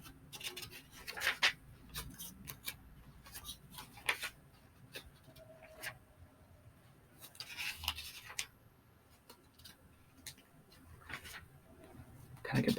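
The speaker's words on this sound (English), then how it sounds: "here's some page turning for you guys who like page turning" Pages of a history book turned one after another, soft papery swishes and rustles in irregular bursts with quiet pauses between, close and gentle, with no talking.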